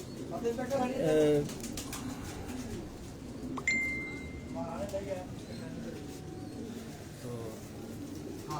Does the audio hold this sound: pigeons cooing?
yes